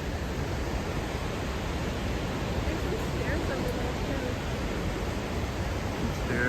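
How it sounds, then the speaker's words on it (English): Broadband, steady rushing of a waterfall seen from near its top, a constant roar of falling water holding level throughout, with no clear voices over it. "And there's the top of the waterfalls."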